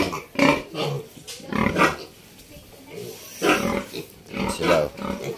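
Pigs grunting and squealing in a small backyard piggery, a run of repeated close rough snorts and oinks with brief pauses between them.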